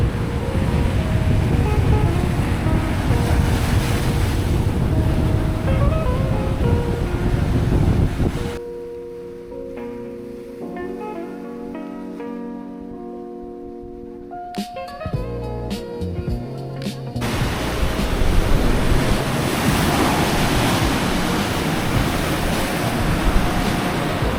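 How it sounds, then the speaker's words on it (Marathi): Rough sea waves surge and break at Harihareshwar beach on the Konkan coast, a steady broadband roar that gives way mid-stretch to a quieter, tonal passage before the loud surf returns. "इथे जरा पाणी थोडं खवळतंय, कधी कधी खूप मोठा लाटा जाते."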